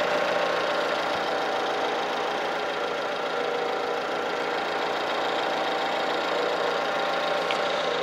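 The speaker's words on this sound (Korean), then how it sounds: "차량 엔진룸 앞에 나와 있는데 엔진 소리 먼저 한번 들려드릴게요" A gasoline Jeep Renegade engine, not yet fully warmed up, idles steadily up close, a continuous low rumble with a faint ticking knock and no voices, unchanging for the whole stretch.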